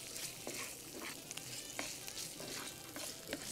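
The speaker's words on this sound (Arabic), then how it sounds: "الخرشوفات بتاعتنا نقوم حاطينها كده اهو في الطاسه." Artichokes frying in a pan with olive oil, garlic and hot pepper produce a soft, steady sizzle with light crackles and occasional utensil clicks, fairly faint and without speech.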